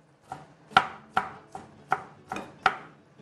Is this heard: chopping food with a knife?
yes